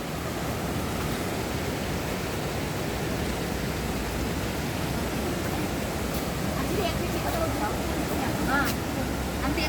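A swollen river rushes under a footbridge at Oso Park in Nepal, a loud, steady roar of churning water that holds unbroken from start to finish.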